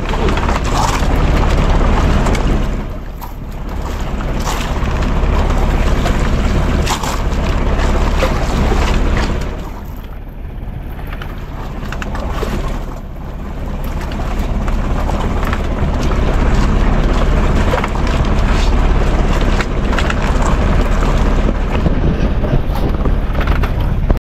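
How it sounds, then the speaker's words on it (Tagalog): A large boat engine drones steadily out on the Pacific Ocean, loud and close, with wind buffeting and waves washing beneath it and brief dips in level, and no talking. "Malaking makina yan ay. Ano makina yan?"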